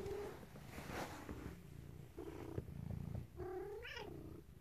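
A really small cat inside a box gives a series of close, plaintive mews and low rumbling purr-like sounds, alternating in short bursts.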